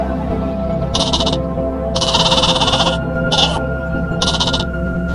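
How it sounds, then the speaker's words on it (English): Four rough, raspy bleats in irregular bursts of varying length cut through a constant low droning background, loud and close, with no speech. "Goat."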